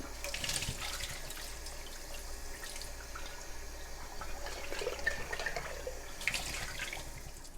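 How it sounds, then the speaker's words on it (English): Tap water runs steadily into a kitchen sink while produce is rinsed after an apple cider vinegar soak. The hiss is continuous and fairly quiet, with faint splashes and drips. "I'm going to use regular tap water, and I'm going to rinse this really, really well"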